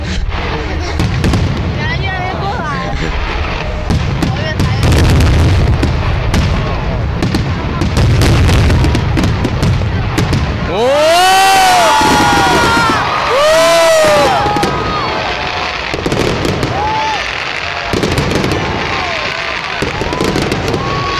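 Fireworks at Janfusun Fancyworld amusement park on New Year's Day, with flash shells bursting and whistling rising shells among rapid crackling bangs, while an excited crowd cheers and people shout throughout.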